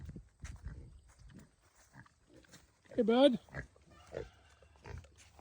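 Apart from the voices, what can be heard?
pigs on a farm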